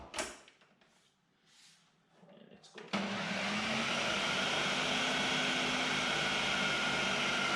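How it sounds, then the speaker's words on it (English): A Ninja blender whirs on pancake mix, switching on sharply after a few seconds of quiet kitchen handling and then running as a steady, loud, continuous motor drone to the end. "I'm going to then blend it, try and get the mix going nicely."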